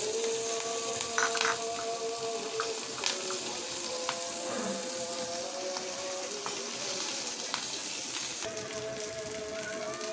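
Chopped onion frying in a small amount of leftover oil for a winter tal begun eggplant fry, a steady close sizzle and crackle with scattered pops, no talking.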